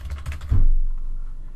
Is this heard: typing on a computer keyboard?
yes